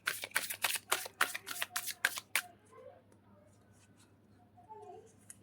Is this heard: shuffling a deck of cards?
yes